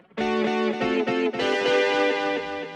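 A Boss SY-1000 guitar synthesizer plays a short sequence of bright, sustained synth-guitar chords with the poly distortion turned down, notes stepping quickly before one held chord rings out and fades.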